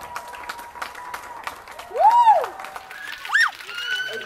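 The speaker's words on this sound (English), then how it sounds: "Everyone is outside clapping for the NHS" Scattered clapping from neighbours outdoors on a London street during lockdown, thanking NHS workers: sparse, distant claps with rising whoops and whistles cutting through, then more clapping and cheering in the background.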